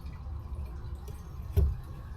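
Fuel dripping from a Honda Civic fuel tank after its O-ring is pulled off: faint scattered drips over a low hum, with one clearer, louder drop near the end.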